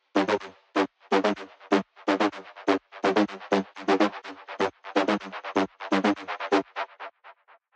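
A plucky electronic lead synth plays a rhythmic staccato riff alone in a dance track, with short repeated notes and echoes from a delay gradually growing between them.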